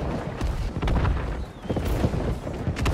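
Repeated deep booms of fort cannon fire in New World roll out in quick, irregular succession, dense and muffled, with no voices present.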